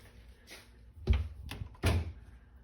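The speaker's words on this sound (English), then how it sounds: "nice soft close drawers" Soft-close kitchen drawers in a remodeled condo shut with two muffled thuds and brief sliding rustles, quiet and close in an otherwise still room.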